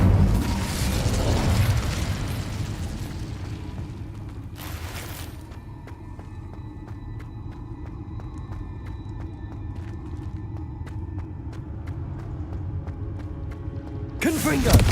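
Incendio fire spell cast in the Hogwarts Legacy video game: a bursting whoosh and rumble near the start, then a low mechanical hum and faint creaks, with sharp broadband bursts around five seconds and at the very end.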